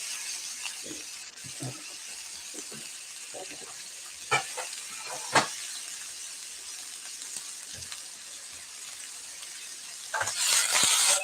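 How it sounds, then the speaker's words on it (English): Food gives a quick sauté in a hot pan, a steady soft sizzle with scattered light clinks and scrapes, swelling louder and hissier near the end. "quick saute on this"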